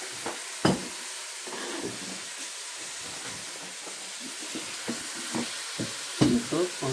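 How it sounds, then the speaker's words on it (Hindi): Lamb pieces frying in oil with onions in a karahi, a steady low hiss with scattered stirring clatters and a few louder utensil knocks, close by. "अब मैं इसको थोड़ा सा पकाऊंगी ऐसे ऑयल और प्याज के साथ"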